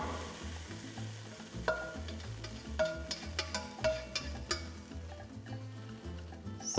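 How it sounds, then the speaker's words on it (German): Garlic and ginger softening in a pan with a low, steady sizzle, broken by clicks and scrapes of a utensil stirring against the metal; nobody speaks. "Dann kommt der Knoblauch und der Ingwer drin. Den kurz mitdünsten."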